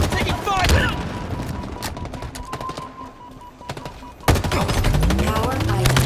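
Rapid gunfire in the shooter Halo Infinite, in a bot slayer match on the Bazaar map: dense bursts of automatic shots with loud sharp cracks, a brief lull, then heavy firing again, alongside game announcer voice lines.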